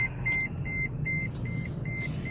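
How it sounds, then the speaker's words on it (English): A taxi's electronic chime beeps six times at an even, steady pace over a low, constant engine rumble, after shifting from reverse into drive. "If you use the reverse gear and then put it in drive, it'll beep."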